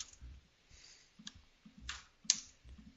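A computer mouse clicks repeatedly while working in Microsoft Office: sharp, faint clicks in an irregular rhythm, some in quick pairs, close to the microphone over a quiet room with no talk.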